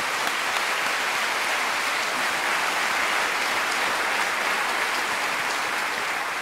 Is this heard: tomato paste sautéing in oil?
no